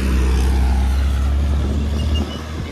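A vehicle drives along a mountain ghat road, its engine a loud, steady low rumble close by that eases off near the end, with no voices.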